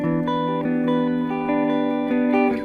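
Guitar played through a simple delay on a Line 6 POD Go, with a steady run of sustained notes repeating and trailing into one another, close and moderately loud with no talking.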